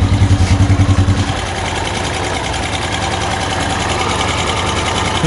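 Yamaha Jupiter Z1 motorcycle engine running with its exhaust blocked, a loud close idling chug that gives way to a harsh broadband hiss from the engine, steady and rough, with no talk.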